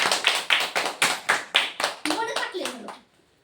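A single person claps in a steady rhythm of about a dozen sharp, close claps, which run into a short spoken phrase before stopping.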